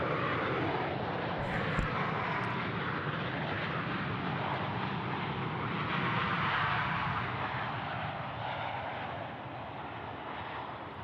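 A Qantas Airbus A330 lands on the left runway at Sydney Airport, its engines a loud, steady, broad roar that swells slightly and holds throughout, heard from a spotting position outdoors.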